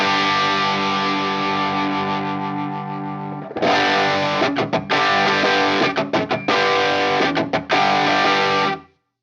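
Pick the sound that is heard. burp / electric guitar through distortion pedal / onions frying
electric guitar through distortion pedal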